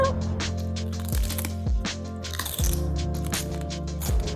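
Biting into crunchy, juicy food, a loud close series of crisp crunches and cracks with wet squishy chewing between them.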